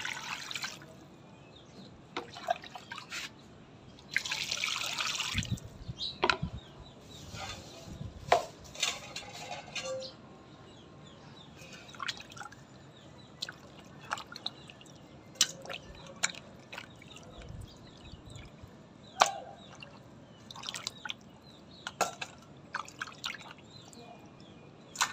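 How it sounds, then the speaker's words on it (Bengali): Cut hilsa fish pieces rinsed under running water in a home kitchen, with drips, splashes and a longer gush of flowing water among scattered clinks of dishes, fairly quiet and close. "এখন এগুলো আমি পিস পিস করে ধুয়ে নেব।"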